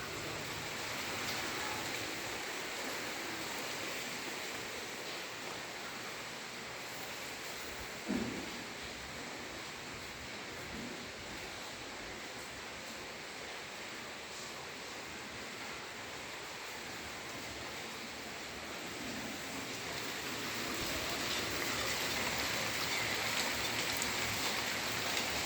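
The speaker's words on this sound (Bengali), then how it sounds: "এটা বাইরে বৃষ্টি হচ্ছে।" Heavy rain falls steadily outside a house, a dense, even hiss that continues without a break and swells slightly toward the end, with no voices.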